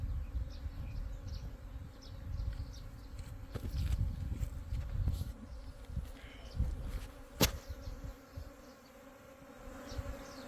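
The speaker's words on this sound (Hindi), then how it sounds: "ये देखिए मधुमक्खियों ने एंट्रेंस के अंदर जाना शुरू कर दिया है, जितनी मधुमक्खियाँ हवा में थोड़ी सी उड़ी हुई थी।" A swarm of honey bees buzzing as they fly into a beehive entrance, a dense continuous hum close by with a few knocks and soft handling noises, no talk.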